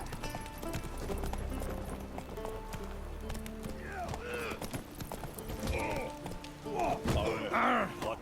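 Roach the horse's hooves clip-clopping in The Witcher 3, a rhythmic run of hoof strikes under game ambience, with a few voice-like bursts and thuds toward the end.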